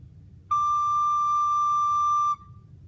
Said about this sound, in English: the high D sounds like this